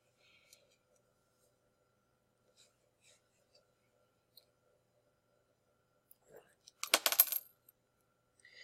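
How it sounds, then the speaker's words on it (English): Shears snip through a 2016 copper-plated zinc penny in one brief, loud crunching burst near the end, after a long quiet stretch with only faint scattered clicks. "So I'm going to use my shears here and cut this penny in half."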